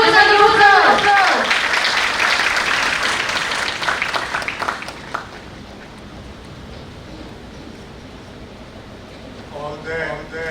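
Applause from the audience greets the guest of honor at an India–Japan cultural festival. It starts loud under an announcer's voice and fades to a soft, distant patter, then someone begins speaking near the end.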